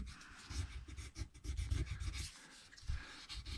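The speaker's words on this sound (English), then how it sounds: "Not rough them up, but sand them down, smooth them out." Sandpaper rubs over the neck of a cheap guitar kit, smoothing off a rough filed finish in short, uneven back-and-forth strokes, close and fairly quiet.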